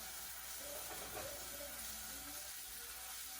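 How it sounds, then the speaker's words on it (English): A homemade Italian sausage patty frying in a pan gives a soft, steady hiss that stays fairly faint and unbroken, with no speech over it. "I'm frying up a patty right now."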